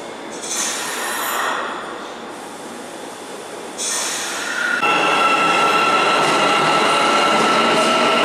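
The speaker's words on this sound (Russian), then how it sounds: "Вот сейчас поезд придет с той стороны." A metro train rolls into a station in Almaty, Kazakhstan, a loud rumbling roar that builds, with a sustained metallic wheel squeal and rail noise as it draws in.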